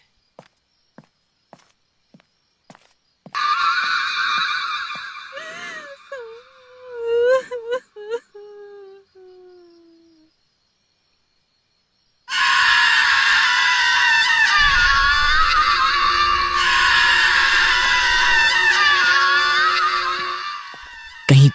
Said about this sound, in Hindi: कहीं पास से रोने की आवाज आई